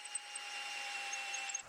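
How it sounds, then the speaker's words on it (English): A power drill whirs steadily and close as it bores a deep bolt hole in wood, its motor holding one even high pitch alone for a short stretch. "Now I've removed all that stuff so that I can continue drilling the hole and go deeper."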